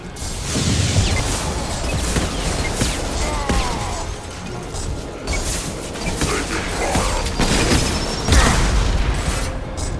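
Grenade blasts and combat noise in the video game Mass Effect 2, a dense battle din of booms, clattering impacts and scattered shots, with a heavy thump toward the end.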